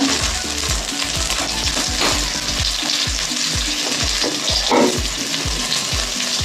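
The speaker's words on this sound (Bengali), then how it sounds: "এবার আমি এটাকে তেলে কষিয়ে নেব" Ginger-cumin paste is sautéed with tomatoes, salt, turmeric and green chilli in a little oil, a steady close sizzle punctuated by regular rhythmic scrapes of a spatula stirring the pan.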